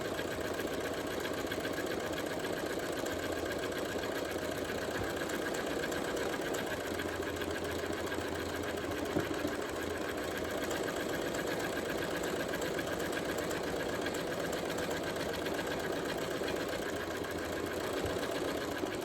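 A sewing machine runs steadily for about twenty seconds stitching a cloth face mask, its even mechanical whir and rapid needle chatter holding at one level with only small shifts in pace.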